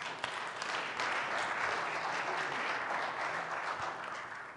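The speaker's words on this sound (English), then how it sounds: "So give yourselves a round of applause." A church audience at a Christmas event applauds, a full, even crackle of many hands clapping that stays steady and fairly distant before easing slightly at the close.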